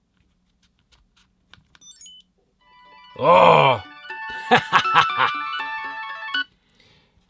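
A phone ringtone, set off by double-pressing a Chipolo tracker inside an Ekster card wallet, sounds loudly for a few seconds, starting with a sliding tone and then settling into a repeating melodic ring.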